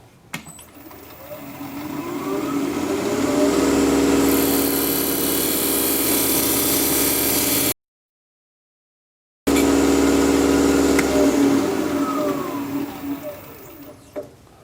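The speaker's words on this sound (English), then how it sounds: "I'm going to come down here and make a parting cut so that I know where I want to stop" A wood lathe turning sycamore while a parting cut is made, giving a steady, fairly loud droning whine with a rough cutting hiss; the sound cuts out completely for about two seconds midway, then resumes.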